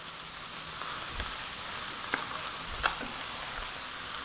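Bopis offal fries in a pan, sending up a steady close sizzle, with a few sharp clinks and scrapes from stirring near the two- and three-second marks; no one talks.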